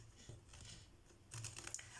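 A deck of tarot cards is shuffled by hand, with soft papery riffles and quick flicks close by, growing busier with a brighter burst of snapping cards near the end.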